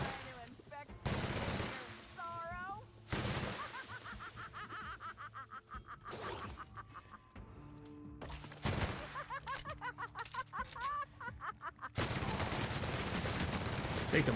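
Gunfire aimed at bugs in the video game Outer Worlds: Spacer's Choice comes in repeated sharp bursts mixed with chittering creature noises, ending in a sustained volley, with a voice and a snicker in between.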